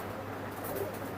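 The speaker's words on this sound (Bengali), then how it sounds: "এই কবুতর দুটো হলো চাপড়া কবুতর, চাপড়ার বাচ্চা" Young chapra pigeon squabs coo softly and continuously at close range over a busy, noisy background.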